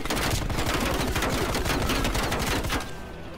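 Rapid, sustained automatic fire from an enemy minigun, a Gatling-style gun in the video game Call of Duty Black Ops Cold War. It comes as a loud, dense stream of shots that eases slightly near the end, with no talking.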